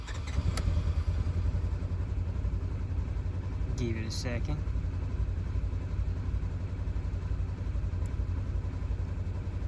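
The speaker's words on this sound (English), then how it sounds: "if I turn my buggy off and then turn it back on" Utility buggy engine restarting and settling into a steady idle, a constant low rumble close by throughout, with a brief clatter midway and someone talking over it.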